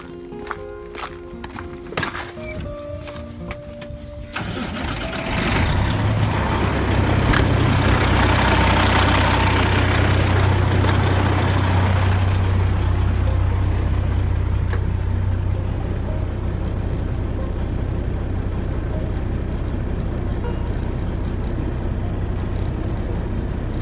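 A truck engine cranks and fires after about five seconds of quiet clicks and rattles, then settles into a loud, steady low idle while building air pressure.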